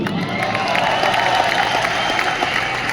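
An audience at an anniversary direct-selling event applauds, with dense, steady clapping from a large crowd and a few faint cheers mixed in throughout.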